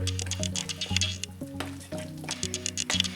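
Thick banana fritter batter of flour and water being stirred by hand in a bowl, with wet squishing and slapping strokes in an irregular rhythm, close and fairly loud.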